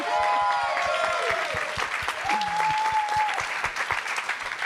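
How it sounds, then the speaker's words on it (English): Conference audience applauding at TrustCon 2024 after a live panel session, steady dense clapping filling the room for several seconds with a few faint tonal sounds and possible stray voices mixed in. "And a round of applause for Ben."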